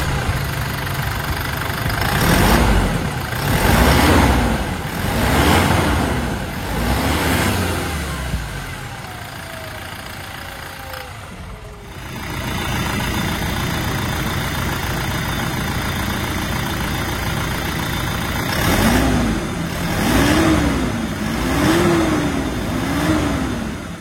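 A Toyota Fortuner 2.8 with the 1GD-FTV diesel engine runs steadily, a low, close diesel drone that swells in a few repeated surges before settling back to a smooth idle.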